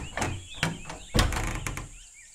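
A heavy door in a fantasy audio drama set in a quiet village, opening with a loud wooden thunk, a creak and scraping clatter, then settling into fading rattles.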